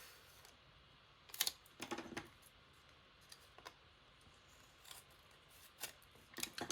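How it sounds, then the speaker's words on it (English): Scissors snipping paper in half for a skinny Happy Planner binder: several quiet, close crisp cuts in irregular bursts, heard alone without talk. "I'm going to cut this, and I am going to, let me see if I can cut it in half."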